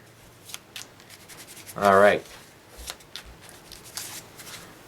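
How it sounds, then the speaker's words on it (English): Marvel Champions card game deck riffled and shuffled by hand, one brief, loud burst of card shuffling on a tabletop, with a quiet voice speaking once. "Alright, and then we'll shuffle these in."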